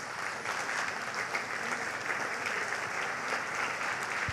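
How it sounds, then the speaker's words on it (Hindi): Steady audience applause fills the whole stretch at a company event, dense and even with no voices over it. "इनके लिए तालियां होनी चाहिए"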